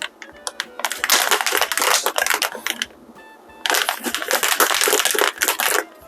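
A cocktail shaker packed with ice and juice is shaken hard in two long loud bursts of rattling and crunching, with a short pause between them.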